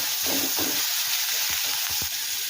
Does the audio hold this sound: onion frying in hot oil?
yes